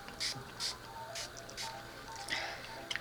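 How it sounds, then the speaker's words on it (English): Rose water sprayed as a face mist, several short soft pump bursts spaced apart, close and fairly quiet, no talking. "I'm gonna spray some rose water"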